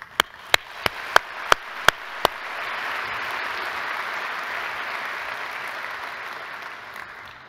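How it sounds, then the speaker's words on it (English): An audience applauds new initiates at an FCCP designation ceremony. A few loud, sharp individual claps come first, then dense, even applause from a large crowd that holds steady and gradually thins. "Please join me once again in applauding our new initiates."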